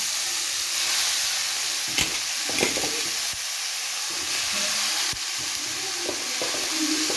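Mint leaves fry in oil in a pan for pudina chutney, giving a steady, bright hiss with a few scraping stirs and light knocks, close and continuous, with no speech.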